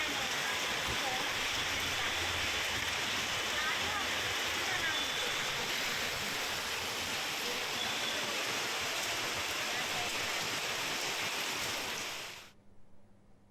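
Heavy rain pouring down at night in Hyderabad, a dense, steady broadband roar that holds loud and unbroken for about twelve seconds before cutting off abruptly.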